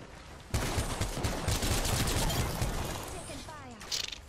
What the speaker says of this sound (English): I'm just trying to get shotgun damage